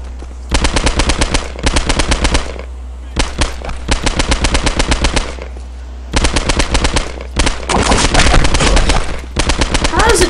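Video game gunfire in Postal 2 rattles out in loud, rapid automatic bursts, several long volleys broken by short gaps, with a steady low rumble underneath and a voice briefly audible near the end.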